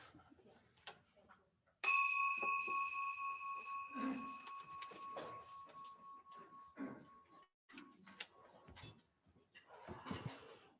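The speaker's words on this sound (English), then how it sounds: "You want me to ring the bell?" A single bell rings out clearly at a Rotary meeting, its tone sustaining and slowly decaying while scattered voices, murmurs and shuffling from the room carry on around it.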